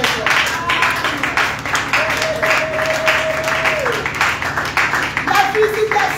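A church congregation at a women's prayer service claps and applauds to acclaim the Lord, a steady, lively wash of hand claps filling the room, with a sustained tone running beneath partway through.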